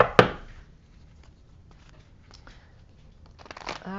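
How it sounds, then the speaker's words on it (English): Tarot cards being shuffled, with a sharp riffle snap at the start, scattered soft card flicks through the middle and a denser burst of shuffling near the end, fairly close and without speech. "I already shuffled, so just going to shuffle a little bit more"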